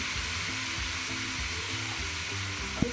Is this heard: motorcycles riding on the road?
no